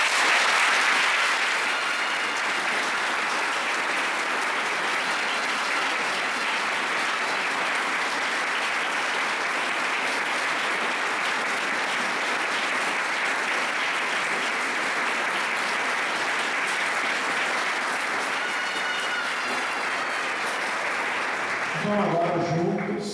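A church congregation at a Catholic novena service breaks into sustained applause to welcome a new member, clapping filling the room steadily for about twenty seconds before fading out.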